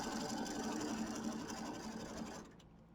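A sewing machine stitches out quilt batting for a mini quilt, a steady fast mechanical whir that runs continuously up close and then stops near the end.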